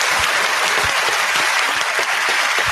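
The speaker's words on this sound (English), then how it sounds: "Can we get some applause?" A studio audience on a radio show claps loudly and continuously, a thick, even burst of applause close to the microphones with no talk over it.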